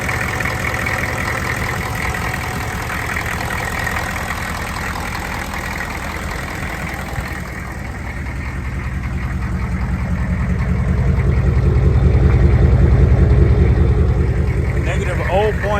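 A 6.5L diesel engine idles after an injection pump replacement, a steady, close, rhythmic clatter and rumble that swells louder and deeper toward the end.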